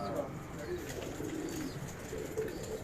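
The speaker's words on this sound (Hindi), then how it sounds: "भाइयों कमेंट में बताएं परिंदे कैसे लग रहे हैं शाहिद भाई के आप लोगों को।" High-flyer pigeons coo softly in a loft in Karachi, several low repeated coos over a steady background hum, close but quiet.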